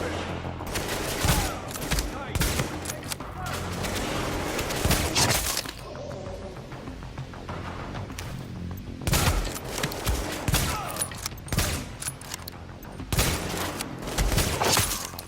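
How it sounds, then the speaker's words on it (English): Suppressing gunfire from the video game The Division comes in dense, loud bursts of rapid shots with breaking and mechanical clatter, easing briefly in the middle before heavy firing returns. "Taking suppressor fire!"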